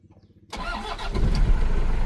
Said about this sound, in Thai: รถคันนี้ขายตามสภาพ สตาร์ทก่อน